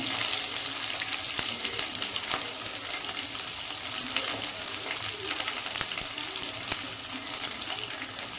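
Green chilies and a large onion sizzle in a hot pan for a North Karnataka roti tempering, a steady dense crackle and hiss throughout with faint stirring clicks, close and continuous with no talking.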